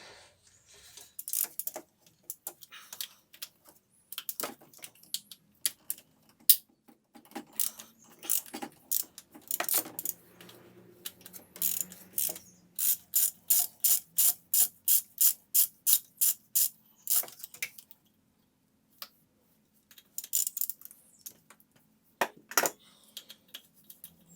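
A 1/2 inch ratchet with a Torx T50 bit works the long guide pulley bolt by the water pump of a Mercedes-Benz OM611 diesel engine. Close, crisp pawl clicks come in uneven bursts, then a long run of steady, evenly spaced clicks with short pauses, no talk.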